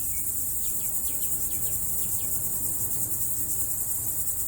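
Steady high buzzing of summer cicadas fills the background of a garden, with a few short chirping calls near the start and low rumble beneath.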